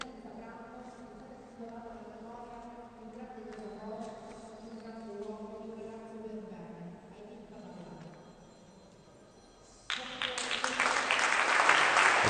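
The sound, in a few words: crowd applause at Palamini for Aiden Fadalà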